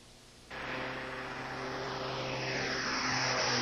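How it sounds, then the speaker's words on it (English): An air ambulance aircraft flies a critically injured toddler to a pediatric intensive care unit. Its steady, droning engine hum with propeller-like tones swells in abruptly after a moment of quiet and stays loud and close, with no talking. "Dr. Gundabda decided to airlift Denise to Shands Hospital's pediatric intensive care unit 200 miles away in Gainesville"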